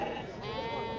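Sheep bleating at a busy Tuesday livestock market in Azrou, Morocco, a loud close bleat over crowd noise.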